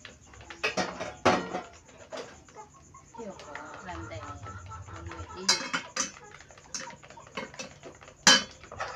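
Plates and dishes handled while tidying a kitchen, with several sharp clattering knocks and clinks scattered through the stretch, mixed with people talking and a low background hum.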